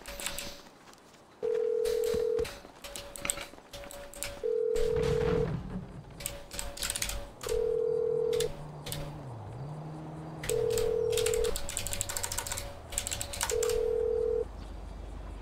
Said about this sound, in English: Why do I hear a phone ring?